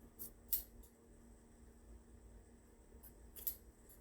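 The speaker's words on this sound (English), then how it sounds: "I'm also going to trim some of this extra in here." Scissors snip through excess muslin fabric while a skirt toile is trimmed, giving a few quiet, isolated cuts spaced seconds apart over a soft room hiss.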